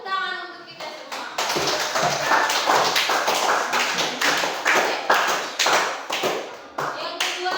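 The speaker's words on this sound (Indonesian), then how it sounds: "Tepuk tangan untuk kita semua." A classroom of students claps together after a science lesson on the solar system, rhythmic, fairly close hand claps in a steady pattern, with some voices mixed in.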